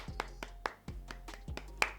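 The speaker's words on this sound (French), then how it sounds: "Acclamation." A few sparse, sharp hand claps in an irregular rhythm, fairly close and quiet, like light scattered clapping.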